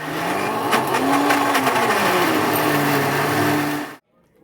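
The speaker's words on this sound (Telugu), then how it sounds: "ఇప్పుడు ఆ చింతపండు పేస్ట్లోనే కారం వేసి మళ్ళీ ఒకసారి గ్రైండ్ చేయాలి" A blender grinds tamarind paste mixed with chili powder, a loud steady motor whine with pitch slowly rising and falling for about four seconds before it cuts off abruptly.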